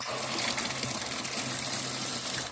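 Water gushes steadily from a pipe in a boiler room during boiler hookup, a continuous hissing, splashing flow close by with no pauses.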